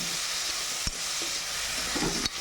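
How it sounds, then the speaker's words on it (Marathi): Dry brinjal curry made with green chillies sizzling as it fries in a pan: a steady hiss with a couple of sharp clicks from stirring, close and fairly quiet. "सुकी वांग्याची भाजी त्याला फ्राय होऊ देते"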